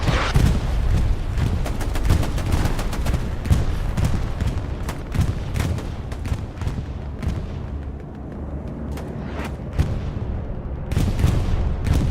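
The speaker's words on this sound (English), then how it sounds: "Bombing run by Haiited. No, by Syndicate." Bombing-run explosions and gunfire in Hell Let Loose during a friendly competitive match on Sainte-Mère map, a dense string of sharp booming impacts and crackling shots rolling on with brief lulls between bursts.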